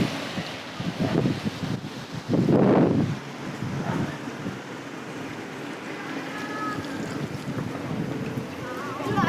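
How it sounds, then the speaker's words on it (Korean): Strong gusting wind on a rainy city night outdoors buffets the microphone in rough, uneven bursts, with one loud blast near the start and a lower roar continuing throughout. "지금 비가 많이 오진 않는데 돌풍이 불고 있습니다"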